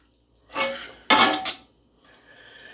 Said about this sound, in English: Then you want to mix this all together really good.